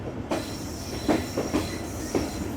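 A train with brand-new coaches passes on the other track beside an overnight Tezgam economy-class ride, its wheels knocking in a steady rhythmic clickety-clack over a loud rolling rumble.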